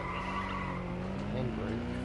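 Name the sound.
car handbrake skid in the video game Watch Dogs Legion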